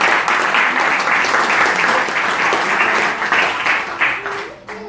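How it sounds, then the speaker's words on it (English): An audience at a Sunday spiritual talk in Newcastle claps in welcome, a close, lively burst of applause with audible individual claps that fades toward the end. "please let's give all of them a round of applause and welcome them to the School of Newcastle"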